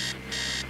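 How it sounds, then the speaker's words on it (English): An alarm clock blares upstairs in the Stories Untold video game, two bright buzzing bursts under a steady hum, moderately loud and without talk. "Upstairs, the sound of an alarm clock blaring."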